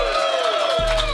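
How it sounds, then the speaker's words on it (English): Launch party audience cheering and whooping with some applause, a dense crowd roar sustained through the brief moment. "Give yourselves a round of applause."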